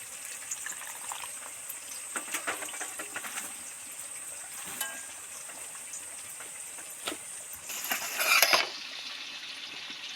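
Cumin, coriander and chili powders are stirred with a little water and yogurt into a liquid masala, making soft, wet swishing and light clinks that swell into a brief burst near the end, with no voices.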